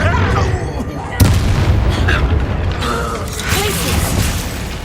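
Confringo blasting spell explosion in Hogwarts Legacy: a sharp, loud burst of sound over an ongoing mechanical, creaking combat din, with voices nearby.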